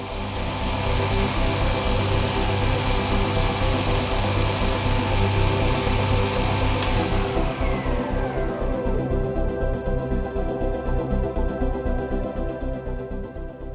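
Liberty Engine 1.0 magnetic motor machine running steadily, a continuous humming whir with a faint higher whine on top, holding constant and then changing character partway through, fairly close and loud.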